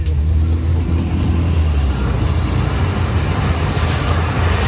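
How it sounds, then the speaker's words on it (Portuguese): A car drives along a flooded avenue, giving a loud, steady engine rumble with a continuous rushing wash of water and road noise throughout. "Pelo vídeo dá pra gente visualizar o momento em que o carro passa pelo local."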